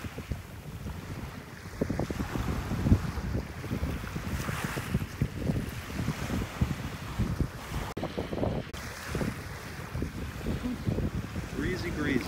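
Wind gusts across a beach in North Naples, Florida, producing steady, rough microphone buffeting and rumble along with surf noise, with faint voices now and then underneath.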